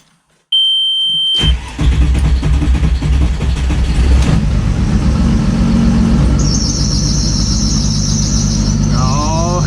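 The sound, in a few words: car engine starting and running, belt slipping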